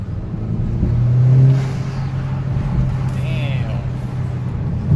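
A modified Honda Accord or Civic turbo engine revs up, heard from inside the cabin, a deep steady drone that swells briefly then settles into a constant rumble.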